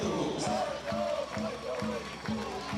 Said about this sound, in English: You hear them cheering for Puerto Rico, the French fans.